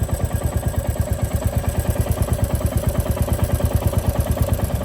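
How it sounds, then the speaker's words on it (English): Royal Enfield Classic Reborn motorcycle engine running with a rapid, even thump and mechanical clatter, loud and close, a steady rhythmic idle-like pulse throughout with no voices. "if you observe the engine clatter at map 5, the engine clatter is lesser than"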